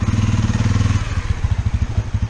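A motorcycle rides up at an outdoor meetup in Bangalore, its engine close and loud, with a steady, fast, rhythmic thumping that continues without a break.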